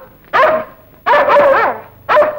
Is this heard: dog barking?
yes